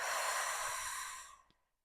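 One long, soft exhale drawn out during a diaphragmatic breathing exercise, a breathy hiss that fades gradually to silence with no voice over it.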